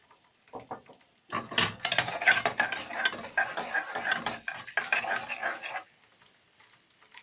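Large garlic cloves drop into oil that is still heating, giving a short burst of clatter, scraping and light sizzling. It is close and moderate in level, then fades back toward quiet.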